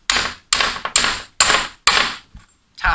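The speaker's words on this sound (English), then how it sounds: "To tap the bearing down, I'm using a 27mm deep socket as it fits perfectly on the inner race of the bearing." A 27mm deep socket hammered down onto a wind turbine bearing's inner race, five sharp metallic taps in an uneven rhythm, close and loud, then a faint click and one softer knock.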